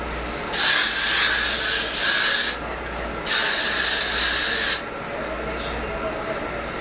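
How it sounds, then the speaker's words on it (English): Three long hissing bursts from a hairspray can nearby, each lasting about a second or more, followed by a fainter short puff. "I'm just gonna give it one more spray, like the after spray"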